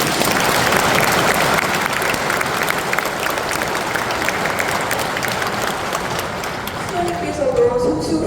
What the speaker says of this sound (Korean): 잠시 박수 한번 드립니다.